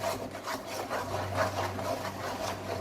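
A spatula scrapes and rubs steadily through thickening milk powder and egg halwa as it roasts in a pan, making close rhythmic grating strokes over a low hum, with no talk.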